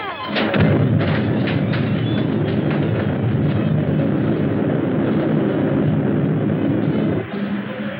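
Spaceship weapon firing in an old sci-fi film: a loud, sustained roaring blast with a dense, rumbling texture lasting several seconds, slightly muffled and band-limited like an old soundtrack.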